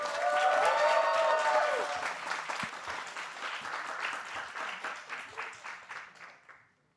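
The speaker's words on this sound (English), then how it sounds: "Please give a big round of applause for Finding Nate from NASA." Audience applause breaks out for a film pitch at a screen forum final, sustained clapping from a crowd that holds steady, then thins and fades out toward the end.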